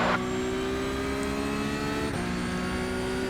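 A silver Porsche race car engine in the iRacing sim holds a loud, steady high-revving drone with a brief gear-shift dip partway through, heard alone and close without talk.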